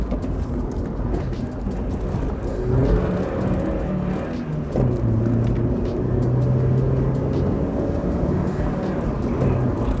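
Mazda MX5 roadster driven hard through a run of corners, a loud, steady engine roar with wind and road rumble throughout, pitch shifting slightly as the car accelerates and eases off, with no talking.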